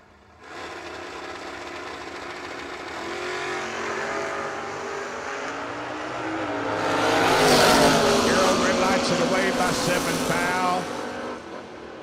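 Drag race between Gerald Engel's pickup truck and Dave Ziegler's Chevelle at the 18th Annual Ultimate 64, engines roaring steadily then swelling louder and harsher mid-run before easing slightly, with a crowd and announcer voice underneath.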